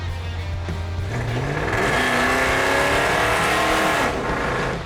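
A loud old truck engine roars steadily, its pitch climbing as it revs up, throaty and close with no voices.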